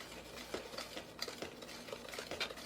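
Spoon stirring dry spices, red chili powder and onion powder, in a bowl, soft scraping and clinking of metal against the dish in an uneven rhythm, quiet and close.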